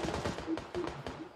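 Rapid gunfire in the video game PUBG crackles in a quick burst of several shots, moderately faint and close together with an uneven rhythm.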